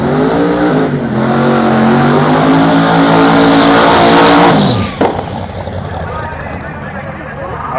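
A Ford Maverick drag car at Sick Week in Florida runs hard, its engine note climbing steadily and loud, then cutting abruptly as it passes, leaving a quieter rumble while a commentator talks over it.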